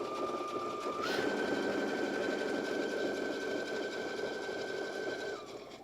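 A sewing machine stitches a 3/8 inch seam in one continuous steady hum with a sustained whine that rises after a second and drops just before stopping; close and clear, no talk.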